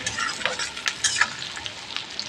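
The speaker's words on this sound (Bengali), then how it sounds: "দিয়ে এখন পেঁয়াজটাকে একটু হালকা মাপের আমি ভেজে নেব" Onions fry in a pan for a paneer and egg dish, a soft steady sizzle broken by repeated scraping stirs of a utensil, close and fairly quiet with no talking.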